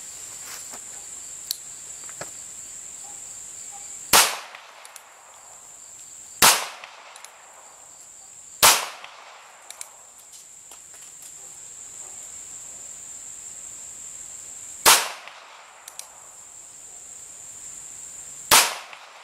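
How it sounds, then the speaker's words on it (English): Five sharp gunshots from a North American Arms .22 Magnum mini revolver crack out at uneven intervals, each loud and close with a short ringing decay, while a steady high insect-like hiss runs beneath. "the first 3 shots I'm just going to point and shoot"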